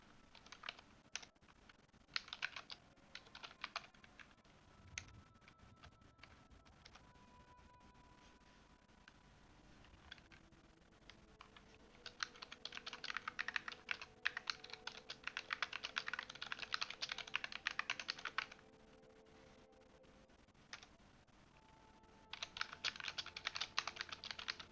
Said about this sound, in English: I'm typing something to one of my viewers